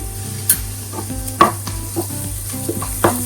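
A spoon stirs fried onions with turmeric powder in a pan for spinach dal curry, giving several distinct scraping knocks at irregular intervals over a low, steady sizzle.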